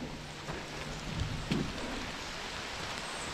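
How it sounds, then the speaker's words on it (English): Steady rain falling outdoors around an old Volkswagen camper bus being recovered, a constant hiss with a couple of brief knocks and thuds over it. "Nothing but rain."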